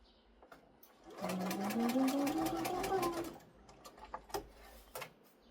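A sewing machine basting fabric, running in one steady burst of rapid stitching for about two seconds, with quiet clicks and handling noises before and after.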